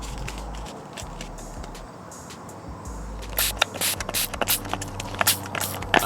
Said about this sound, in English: Now that I've located the spot, I proceed to spray some soap water onto it.